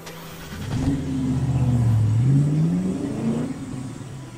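A car engine revs in the video game James Bond 007: Blood Stone, rising and falling in pitch with a smooth, mid-range drone over a few seconds, near and steady with no voices.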